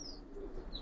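Pigeons (Giribaz and coloured breeds) at a pigeon sale give soft, brief low coos, with faint chirps layered over a steady background hum.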